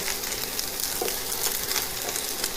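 Sliced pork and zucchini frying together in a stir-fry pan, a loud, continuous close sizzle with faint stirring clinks.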